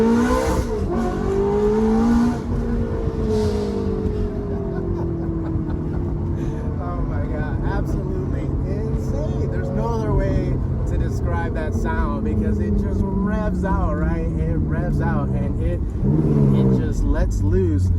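A Ferrari F430 engine revs hard and accelerates through rising, shifting pitch sweeps with gear changes, loud and close from inside the car, with a person laughing and talking over it.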